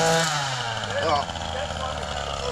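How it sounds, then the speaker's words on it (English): An electric sickle bar mower, used as a hedge trimmer, cutting branches along a fence outdoors, a loud continuous motor buzz close by with a person talking over it. "I got the electric sickle bar mower, we call it, hedge trimmer thing."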